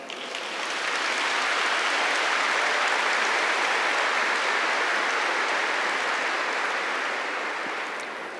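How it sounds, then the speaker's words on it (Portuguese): Congregation applauding after a Bible reading at a Catholic Mass: broad, steady clapping that swells in, holds dense and even for several seconds, then tapers slightly, with no voices over it. "aplauda essa palavra"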